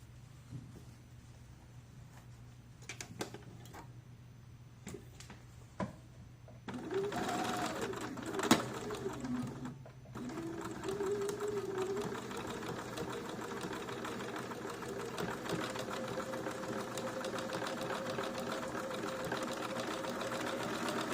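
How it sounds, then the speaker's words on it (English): A sewing machine stitches down a pair of jeans at the seam line, starting after a few clicks and then running in a steady, fairly quiet mechanical whir to the end. "I'm just going to sew this down now right at the seam line."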